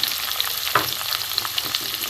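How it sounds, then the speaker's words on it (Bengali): Ridge gourd and drumstick pieces frying in mustard oil with potatoes, a lively close sizzle with scraping stirs and a clear clatter of the spatula at one point, no voices. "ঝিঙে এবং ডাঁটা দুটোই দিয়ে দেবো। একটু ভেজে নেবো।"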